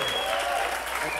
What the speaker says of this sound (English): There's a lot of applause.